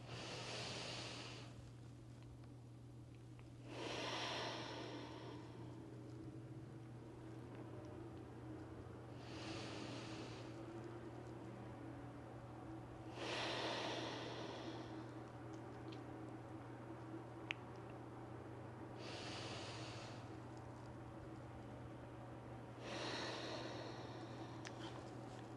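Three slow, deep breaths, each a soft airy rush of inhaling and exhaling a few seconds apart, heard close over a steady low hum with no talking.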